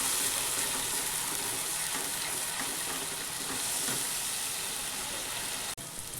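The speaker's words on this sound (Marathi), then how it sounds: "त्याला चांगलं परतून घ्यायचं, कारण हे खोबरं पण कच्चं होतं आणि टमाटर पण कच्चं आहे." Coconut, tomato and garlic masala sautéing in oil in a pan, a steady, soft sizzle and hiss with faint stirring, continuous and close, with no talking.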